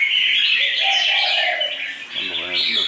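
A red-whiskered bulbul sings bright, warbling chirps in a lively run, close and fairly loud, with a low murmur of background noise underneath.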